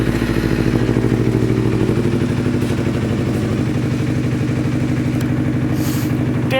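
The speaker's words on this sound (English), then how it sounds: "Danmoto sounds good on this bike." A 2011 Kawasaki EX250R Ninja with a Danmoto exhaust idles close by, a steady low throbbing pulse with a slight clatter that runs the whole time, unbroken and loud.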